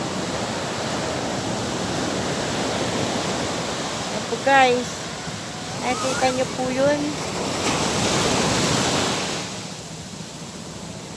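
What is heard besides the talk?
ocean waves on shore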